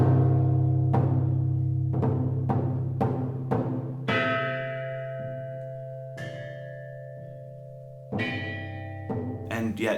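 Ancient Zhou dynasty bronze bells, oblong in shape and some 2,500 to 3,000 years old, are struck one after another, each a clear ringing tone that decays slowly, with several quick strikes and a final flurry.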